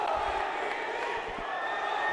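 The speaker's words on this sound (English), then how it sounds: "And the crowd now, Phil, they're into it." Spectators roar and cheer in the arena at a 2024 Reyes Cup pool match between Francisco Sanchez Ruiz and Ko Pin Yi, a dense, sustained crowd swell filling the whole moment.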